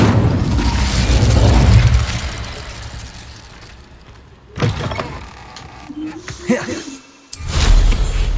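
Incendio fire spell cast in Hogwarts Legacy, loud whooshing bursts of flame with booming impacts in several separate blasts, close and forceful, interleaved with quieter magical swishes.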